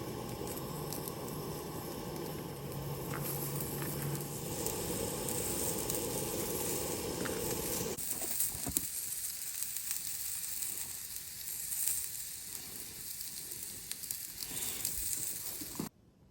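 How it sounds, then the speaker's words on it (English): Butter sizzles and spits in a hot pan on a camp stove during truck camping in very cold weather, a loud, steady frying hiss that drops to a quieter crackle about halfway through. "We're gonna get our butter on there now."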